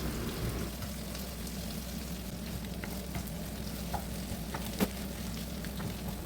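Small sardines frying in oil on a small nonstick tawa, a steady soft crackling sizzle with occasional sharp pops, fairly quiet and without talk.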